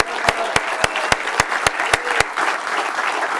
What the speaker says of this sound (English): Can we give Owen another round of applause